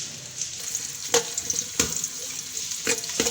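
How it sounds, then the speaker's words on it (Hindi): Chopped onions dropped into about a cup of hot oil sizzle and fry steadily in a kitchen, with a few louder clatters of stirring over the constant hiss and no talking. "मैं इसमें ये प्याज डालूँगी"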